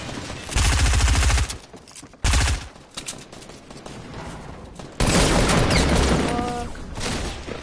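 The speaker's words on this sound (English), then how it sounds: "I'm getting shot from behind." Video game gunfire hits the player in heavy bursts: a loud rapid volley, a short pause, another sharp burst, a quieter stretch, then sustained fire to the end, with no talk.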